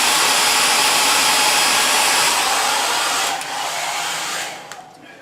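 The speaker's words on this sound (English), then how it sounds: "I believe you can just heat it up with the hair dryer and just kind of push it back down" Hair dryer blowing hot air on a carbon fiber wrap over Ninebot One E+ pedals, a loud, steady close-up whoosh that shifts slightly in tone as it is moved and then drops in level near the end.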